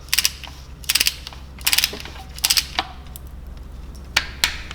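Torque wrench on a BMW N20 engine ratcheting while tightening a timing chain bolt to 20 Nm, heard as four close bursts of rapid metallic clicks separated by short pauses, with a couple of single clicks at the end.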